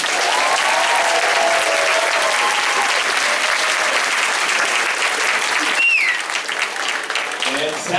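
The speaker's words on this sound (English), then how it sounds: "Let's see how well you can clap for everyone here on stage." An audience at a children's concert claps loudly and continuously for performers on stage, a thick, even wash of applause with a few voices and whistles mixed in, thinning slightly near the end.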